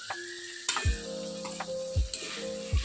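Potatoes fry in a pan with a soft sizzle under a low tonal hum, and a few dull knocking thumps come from stirring or moving the pan, all fairly quiet, with no talking.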